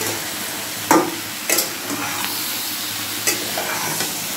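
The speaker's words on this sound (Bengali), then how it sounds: "কেটে রাখা টমেটো কুচিগুলোও দিয়ে দিলাম।" Chopped tomatoes go into a pan of vegetable dal, bringing a soft frying sizzle under a few distinct spoon scrapes and clacks spaced across the moment.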